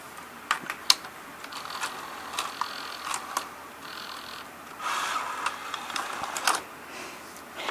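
A Sony EV-C200 Hi8 VCR ejecting a tape: a quiet run of small mechanical clicks, whirs and clacks from the deck's mechanism, close by, with a sharper click early on and faint room hiss throughout.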